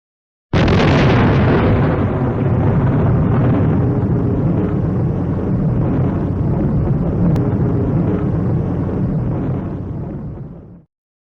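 The Gadget, the first atomic bomb test, detonating with the force of 20,000 tons of TNT: a sudden loud blast that becomes a sustained roaring rumble for about ten seconds before cutting off.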